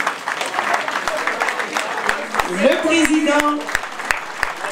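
An audience at a Paris gathering stands and applauds President Guillaume Soro with steady clapping and crowd noise, while someone speaks briefly over it.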